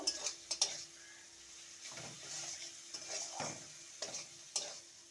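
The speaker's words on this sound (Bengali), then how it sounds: "চিনি দিয়ে আবারও একটু নেড়ে নেব" Potato and pointed gourd curry with sugar being stirred in a pan, soft scraping and clinking strokes of a utensil against the pan over a faint sizzle, fairly quiet and close, without speech.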